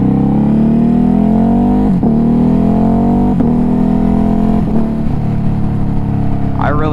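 A 2021 Ducati Hypermotard 950 RVE motorcycle engine revs loudly and close, holding a high droning pitch with several brief dips between throttle blips.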